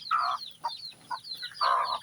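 A mother hen with eight chicks clucks close by in a few short bursts, with soft higher chick peeps mixed in between the clucks.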